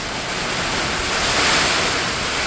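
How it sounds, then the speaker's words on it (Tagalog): Heavy typhoon rain and gusting wind during Typhoon Uwan, a loud, steady broadband roar of downpour with wind rushing throughout, no voices present. "Ah, Talaga pong malakas na ang ulan"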